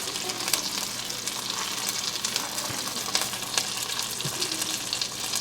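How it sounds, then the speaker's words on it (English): Chicken pieces fry in olive oil in a pan, a steady broadband sizzle with crackling pops running continuously at close range, with no talking. "I'm going to add a little bit more olive oil to my pan. And then we're going to fry up our last two"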